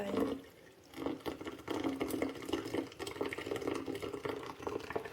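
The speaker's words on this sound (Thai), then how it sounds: "ก็จะเทน้ำทิ้งไป" Water poured off a container of soaked, freshly sprouting mung beans, a close, continuous splashing and trickling pour lasting several seconds with no talking.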